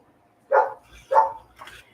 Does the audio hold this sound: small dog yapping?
yes